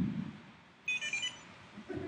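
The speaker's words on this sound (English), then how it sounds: "I'll turn it on first, and then it makes a beep." An IoT test device gives a short burst of electronic beeps as it powers on, a few quick tones close by, with faint room noise and murmur before and after.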